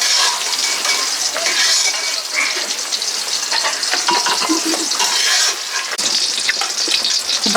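Prawns frying in hot mustard oil make a close, loud, busy crackling sizzle with occasional spattering pops and a brief stir-like break near the end, no talking.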